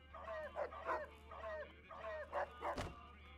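A dog in the video game Fallout New Vegas giving a series of short barks and yips, about six quick calls in an uneven rhythm, fairly faint and close, ending with a sharp click.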